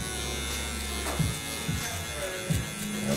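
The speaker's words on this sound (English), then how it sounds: "I'm actually gonna close the clipper and just start fading up here." Electric hair clipper buzzing steadily close up during a barbershop fade haircut, a continuous hum with a few soft thuds as the blade moves through the hair.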